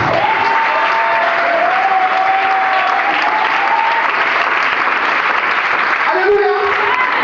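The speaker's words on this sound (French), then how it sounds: "Est-ce que tu peux acclamer la parole de Dieu?" A church congregation at a prayer service applauds loudly and steadily, dense clapping filling the room throughout with cheering voices mixed in.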